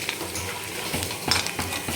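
A spoon stirs red chili powder into besan in a pan, giving soft repeated scraping and scratching strokes with faint metallic clinks over a low sizzle, close and fairly quiet.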